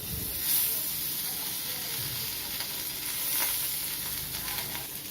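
Fish pieces fry in hot oil over a low flame, giving a steady, close sizzle with a soft crackle that holds evenly throughout, with no one speaking.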